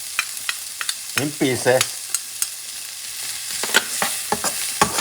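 Chopped garlic fries in a pan with a continuous soft sizzle, punctuated by clicks and scrapes of stirring; a voice speaks briefly over it.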